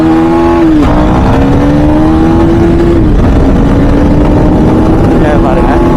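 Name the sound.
2024 KTM Duke 250 motorcycle accelerating to top speed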